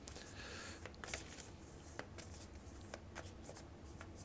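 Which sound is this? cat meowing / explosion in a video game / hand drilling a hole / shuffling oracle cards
shuffling oracle cards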